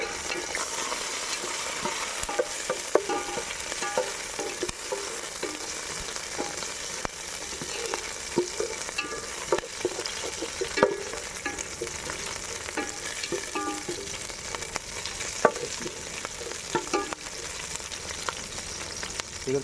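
Curry leaves and green chillies fry in hot oil for a chicken pulav, a dense continuous sizzle with scattered sharp pops and spluttering crackles, close and steady throughout.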